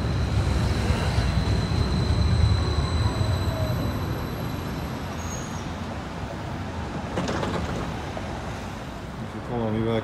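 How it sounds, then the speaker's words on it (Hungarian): Vienna metro train pulling into and leaving an underground station, a steady loud rumble of wheels and motors throughout with brief squealing toward the end. "itt pedig indul és egyúttal érkezik is a metró"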